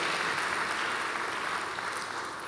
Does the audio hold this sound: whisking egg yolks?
no